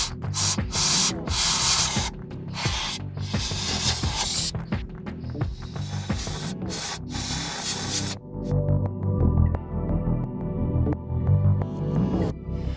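Compressed air sprays in loud hissing bursts to blow out a propane appliance in a tiny house, with repeated sharp on-off blasts and a long steady hiss, close to the microphone.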